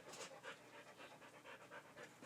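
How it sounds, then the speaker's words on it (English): A puppy pants quickly and steadily, a rhythmic run of soft breathy huffs heard close but faint, with no talk. "my puppy is very excited, so you might hear her panting in the background"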